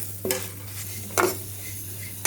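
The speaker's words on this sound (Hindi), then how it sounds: "इसमें हम अपना पोहा डालेंगे और इसको अच्छी तरह से फ्राई कर लेंगे।" Poha tossed into hot oil in a pan sizzles, and a spoon stirs it in three quick scraping bursts over a steady, low frying hiss, with no speech.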